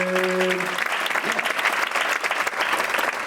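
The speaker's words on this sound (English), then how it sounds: "Please give her a warm round of applause." Audience applause for a hoop dancer at a Tribal Vision performance: dense, steady clapping from a crowd filling the whole stretch, loud and close, with a brief tonal note at the start.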